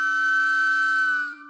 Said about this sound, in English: The soldier now blew upon a green whistle.